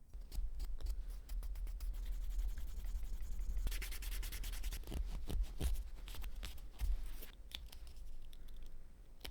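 Leather being rubbed and sanded along the cut edge of a small leather thimble piece, close up and alone: a steady scratchy texture with a run of sharper rapid strokes in the middle.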